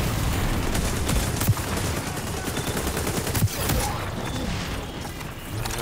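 Designated marksman rifle fire in the shooter game XDefiant on the Midway map, dense crackling gunfire with a few sharper single reports standing out around the middle, close and steady, no talking.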